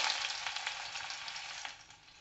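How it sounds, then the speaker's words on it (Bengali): Onions hitting very hot, smoking oil in a wok sizzle loudly at first, then settle into a steady hissing fry that gradually softens, with faint stirring scrapes. "এবার আমি এতে পেঁয়াজগুলো দিয়ে দেবো।"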